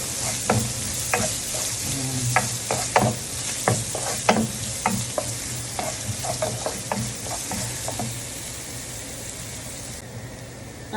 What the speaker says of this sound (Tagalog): maglalagay tayo ng bawang, garlic, isang maliit lang. Tapos, sibuyas. Igisa natin ito.